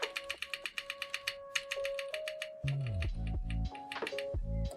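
Rapid clicky keystrokes on a Sangeo60 mechanical keyboard with tactile green jacket switches and plastic keycaps, crisp and close, first in quick bursts, then alongside a louder tonal hum and clatter.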